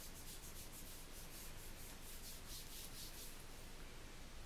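A beauty product being rubbed onto skin, giving a steady soft rubbing and swishing texture that runs close and continuous throughout, with no voices.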